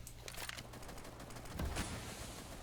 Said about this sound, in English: And Little actually going to miss the second shot.